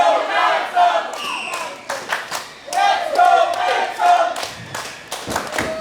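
Wrestling crowd at an independent show in Bacliff, Texas, cheering and shouting in bursts for a wrestler, loud and near, with thuds and claps mixed in and a commentator talking over it.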